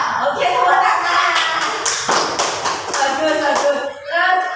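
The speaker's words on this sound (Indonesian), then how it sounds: "Oke, tepuk tangan." A classroom group claps hands in unison, with rhythmic, fairly close slaps mixed with children's voices talking and chanting throughout.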